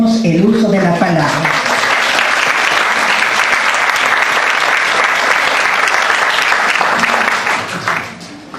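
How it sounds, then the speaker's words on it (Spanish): An audience at a 2018 book presentation on school management claps loudly and continuously for several seconds before the applause tapers off, with a voice speaking briefly at the start and again as the clapping fades. "Le brindamos un fuerte aplauso y le cedemos el uso de la palabra."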